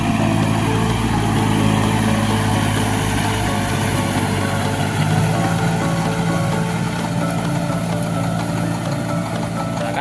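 A Kubota L4028 tractor works a former chili field. Its diesel engine drones steadily and loudly nearby for the whole stretch, and the faint clatter of the implement mixes with outdoor noise.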